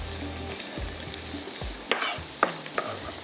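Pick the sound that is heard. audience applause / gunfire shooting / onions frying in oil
onions frying in oil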